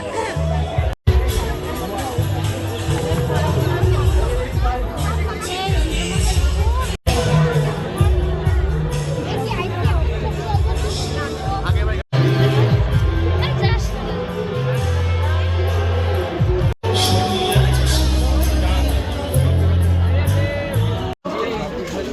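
A dense, noisy crowd at the Kalna Saraswati Puja festival, a steady roar of many voices and chatter with occasional shouts, close and continuous, with nearby people talking over it.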